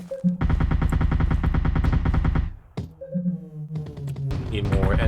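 Turrets in the video game Artificial Extinction fire loud rapid bursts of automatic fire that stop and restart, mixed with electronic tones from the game.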